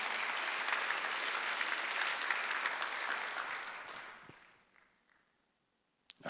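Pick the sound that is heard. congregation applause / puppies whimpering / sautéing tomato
congregation applause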